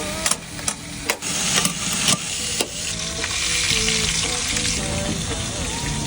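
Meat and vegetables salted and cooking with hot stones in a covered pot, Mongolian stone-grilled style, give a steady close sizzle and frying crackle, with a few sharp clicks and knocks early on and a low engine-like hum underneath.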